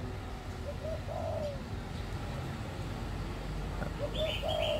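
Ornamental birds kept in cages in a quiet, shady cafe garden give a few soft cooing calls and brief chirps over a steady background hum, moderately close and without talk.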